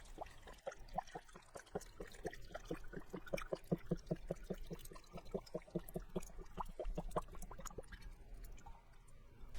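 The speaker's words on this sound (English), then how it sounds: "All you have to do is just pour the water slowly." Water poured slowly into the tank of a Dupray Neat steam cleaner, a steady rhythmic glugging and splashing that runs for about nine seconds at moderate, close level with no talking.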